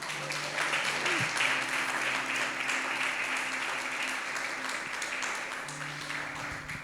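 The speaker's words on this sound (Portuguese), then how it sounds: "Você pode dar uma salva de palmas para Jesus?" A church congregation claps during a sermon, giving a sustained, even round of applause that fills the room at moderate level, with a brief low tone near the start.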